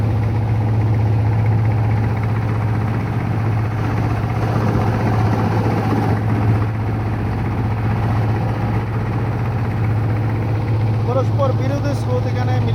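A trawler's diesel engine drones steadily on the Meghna river where the Padma, Meghna and Dakatia meet near Chandpur, a loud low hum holding throughout with turbulent water and wind noise over it.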